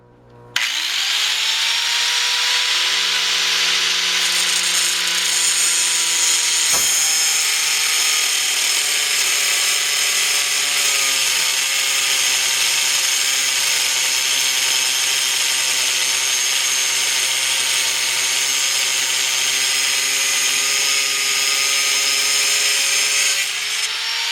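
A power tool cuts through a steel wheel stud in one continuous loud, high-pitched grinding whine that holds steady for over twenty seconds, with a brief dip near the start before stopping abruptly.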